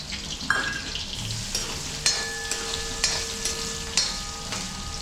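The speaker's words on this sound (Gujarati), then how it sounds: "ચાલો હવે મસ્ત કાંદા નાખી દઈએ." Onions dropped into a hot kadai on a home stove, hissing and sizzling steadily with intermittent stirring scrapes, close and moderately loud, no talking.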